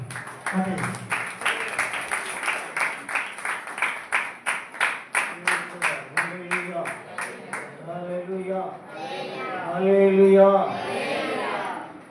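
Audience clapping in a steady rhythmic beat to welcome a preacher at a church gathering, the claps sharp and close, then breaking into a louder swell of applause and crowd noise toward the end.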